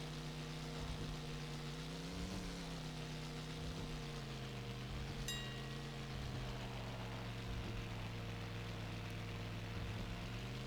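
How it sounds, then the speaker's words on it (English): Truck engine idling in the Dreamcast off-road racing game 4x4 Evolution, a faint steady low drone with gentle pitch wavers and a few soft revs, continuous throughout with no talk. "The engine sound kind of reminds me of"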